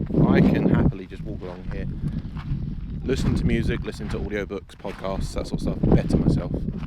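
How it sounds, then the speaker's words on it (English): Heavy wind buffets the microphone in loud rumbling gusts while someone talks steadily over it outdoors by open water in Southampton. "And I apologise for the wind."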